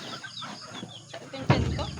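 A chicken clucks nearby on a farm where young piglets are kept, giving short repeated calls with one louder cluck near the end, over a background of faint ambient noise.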